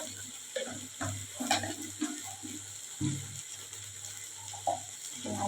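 Potato and cauliflower with turmeric, Kashmiri chilli powder and sugar are stirred in a pan, a soft sizzle under repeated rhythmic scrapes and clinks of the spoon at close range.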